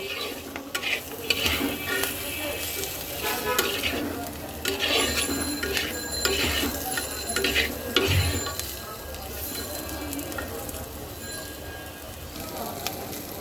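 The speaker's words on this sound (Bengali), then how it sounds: "কেটে রাখা আলু সব কিছু একসাথে সুন্দর করে কষাবো" Potatoes, salt and spices are stir-fried in a pan for a katla fish kalia, with continuous sizzling and frequent scraping stirs of varying loudness and no clear talk.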